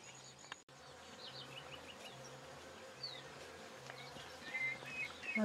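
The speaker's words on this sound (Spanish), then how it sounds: "Aquí vienen las abejas" Steady insect buzzing outdoors, bees droning continuously around flowers at moderate distance with a few faint chirps over the hum.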